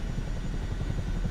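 Helicopter in Microsoft Flight Simulator 2024 carrying a three-quarter-ton sling load, its low rotor thump and engine drone steady and close throughout, with no talk over it.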